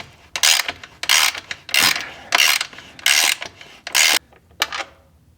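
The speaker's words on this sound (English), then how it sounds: "let me go ahead and grab a socket wrench to make that go" Socket wrench ratchet turning to remove a bolt on a 2019 Kawasaki ZX6R motorcycle, heard as six or seven loud, close bursts of rapid clicking, each separated by a brief pause as the handle swings back.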